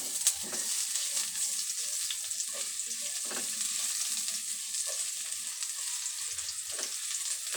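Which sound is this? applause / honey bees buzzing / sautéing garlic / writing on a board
sautéing garlic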